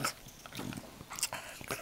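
A puppy gnaws and chews with soft, irregular crunching and biting sounds, close by and continuous through a short indoor moment.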